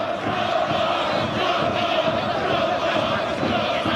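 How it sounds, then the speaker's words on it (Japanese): Crowd noise from the stands at a soccer match, a dense, steady roar of many people clapping and cheering throughout. "スタンドから大きな拍手が起きます"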